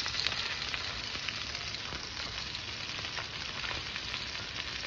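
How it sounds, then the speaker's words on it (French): Salmon pieces, skin side down in oil, sear in a frying pan over medium heat with a dense, continuous crackling sizzle and scattered spits. "prendre le temps de bien griller tranquillement nos morceaux de poisson"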